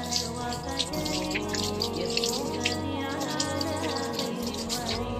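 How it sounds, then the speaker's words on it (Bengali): Running water during ablution as hands and elbows are washed, a steady tap stream with splashing and dripping, close and fairly loud, over a sustained tonal background hum. "2 হাতের কনুই সহ ভালো করে ধোয়া 3 বার"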